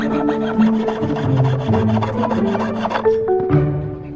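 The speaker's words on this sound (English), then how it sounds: "that was a lot of effort cutting that one little guitar out" A hand saw or file works through tough metal to cut a small guitar shape, a close, steady rasping scrape in quick repeated strokes with no talk over it.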